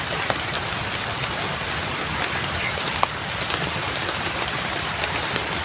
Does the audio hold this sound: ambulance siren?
no